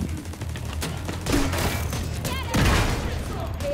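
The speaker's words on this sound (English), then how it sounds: "Lobbing grenades in." Grenade blasts and scattered gunfire in a Division 2 firefight, a couple of heavy thumping explosions over a steady background of shooting, with voices talking amid the action.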